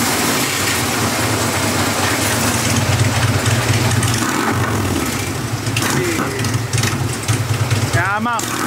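Harley-Davidson motorcycle engine at a rally, starting and then idling with a loud, steady low throb throughout, while people talk over it nearby.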